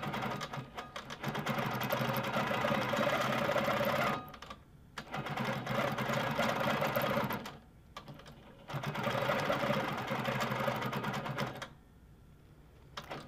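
An Amara ST longarm quilting machine runs in three sustained stretches of busy mechanical rattling, each a few seconds long and broken by short quieter gaps, close and steady, with no voices.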